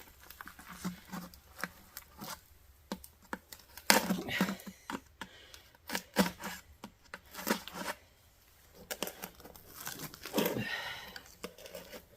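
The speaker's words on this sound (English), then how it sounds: "I'm just going to go ahead and tear this all the way down." Old lining is torn out of a road furnace in irregular bursts of crunching, crumbling and clattering debris, close and fairly loud with brief pauses between pulls.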